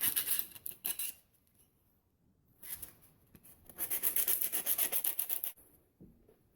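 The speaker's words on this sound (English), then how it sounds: "scuff up the underside of the motor mount" Coarse 80-grit sandpaper rubs in short bursts against the underside of a motor mount, a dry scratchy scuffing that comes and goes in quick strokes, close and fairly quiet.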